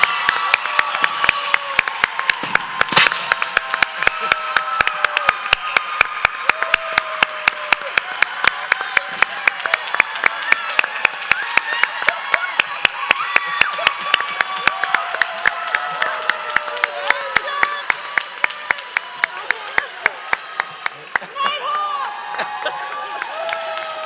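Audience applause for the 2021 GCS Teacher of the Year at a school district celebration of excellence, steady rapid clapping from a large crowd sustained throughout with scattered cheers and voices mixed in.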